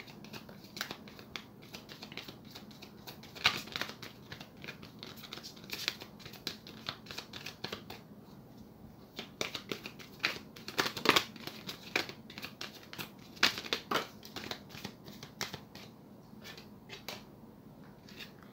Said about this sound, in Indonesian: Aku kocok di kamera.